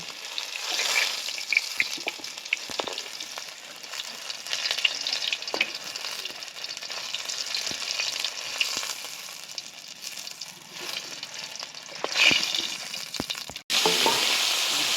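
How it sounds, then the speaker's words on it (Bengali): Cauliflower florets fry steadily in hot oil with a continuous sizzle, and occasional stirring clinks and scrapes sound close by. Near the end the sizzle briefly surges louder. "বাদ বাকি কপিগুলো আমি এইভাবে ভেজে নেব।"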